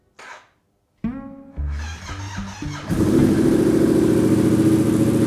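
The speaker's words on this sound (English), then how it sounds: "I wanna make sure that the bike starts because it's been super cold recently." A sport motorcycle in cold weather cranks briefly, falls silent, then cranks again and catches. It stumbles through uneven revs before settling into a loud, steady idle close by.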